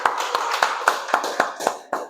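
A small church congregation claps in a slow, steady rhythm, about nine distinct claps in two seconds, close and fairly loud in a quiet room.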